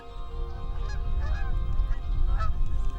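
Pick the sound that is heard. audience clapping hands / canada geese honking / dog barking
canada geese honking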